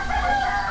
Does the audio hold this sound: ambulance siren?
no